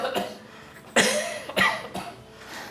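Several harsh coughs burst out one after another, close and fairly loud, with brief quiet gaps between them in an indoor home setting.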